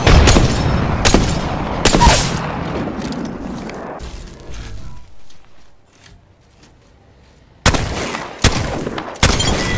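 A frag grenade in the Apex Legends video game goes off amid loud bursts of gunfire and explosions, a dense stretch of blasts, then a quieter lull before several more sharp, loud impacts near the end.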